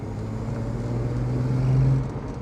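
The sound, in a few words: 1960s Mercedes W108 six-cylinder engine with stainless steel exhaust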